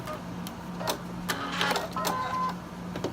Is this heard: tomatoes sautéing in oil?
no